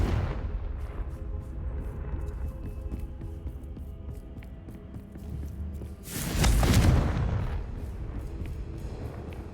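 Confringo blasting spell explosion in Hogwarts Legacy, one loud burst about two-thirds of the way in that rises over a rumbling, busy background and then tails off.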